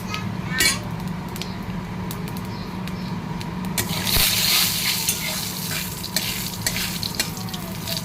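Panch phoron five-spice seeds dropped into hot oil, with a continuous sizzle that swells sharply midway, plus occasional clinks of a utensil against the pan.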